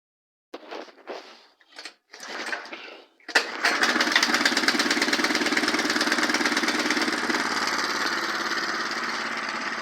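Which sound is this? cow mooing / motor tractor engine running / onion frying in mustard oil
motor tractor engine running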